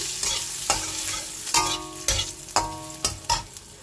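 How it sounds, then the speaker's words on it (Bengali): Homemade lentil dumplings (dal bori) fry in a pan, giving a steady sizzle broken by repeated scraping stirs at a quick, uneven rhythm, close and clear with no talking. "বড়িটা ভেজে নিচ্ছি।"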